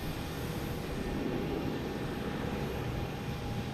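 A Southwest airliner takes off at Boston Logan Airport, its jet engines a steady, broad roar heard from a distance without any change in level.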